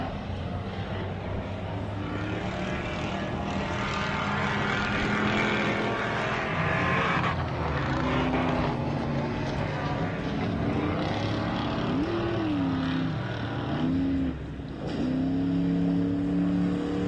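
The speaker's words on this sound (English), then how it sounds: "I can hear his wheels just getting beat on there in the rocks" An off-road vehicle grinds through a rock section at a rock-crawling race, its engine droning and revving loudly and steadily, with shifting pitch as it climbs.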